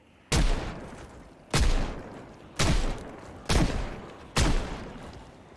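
A Magnum revolver fired in a video game: five loud, sharp shots with booming tails, spaced roughly a second apart in a steady rhythm, close up and with no talking over them.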